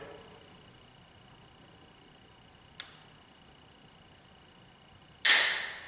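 A hinge-style compound bow release fires with a sharp, faint click, followed a few seconds later by a louder, brighter snap that decays quickly against a quiet, hissy background.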